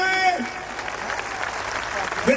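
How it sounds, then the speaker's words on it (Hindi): A church congregation claps loudly in praise at a worship service, a dense, continuous burst of applause with a preacher's voice briefly over it at the start and the end. "यीशु के लिए जोर से ताली बजाएं"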